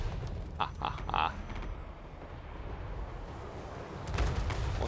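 Artillery fire booms in a Warhammer battle game, Elspeth Von Draken against Ungrim Ironfist, with a rumbling barrage of repeated blasts and a few sharp cracks, loud and continuous throughout.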